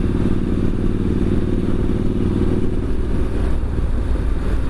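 Triumph Street Scrambler 900 motorcycle fitted with a Vance and Hines exhaust, a deep, steady engine rumble with a throbbing low exhaust note, running loud and close with no voices.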